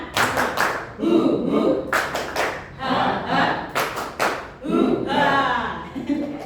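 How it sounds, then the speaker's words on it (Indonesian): A group doing a rhythmic spirit clap in a classroom-style session, loud close bursts of patterned clapping repeated in several rounds, mixed with chanted voices between the claps. "Tepuk semangat. Dua kali ya."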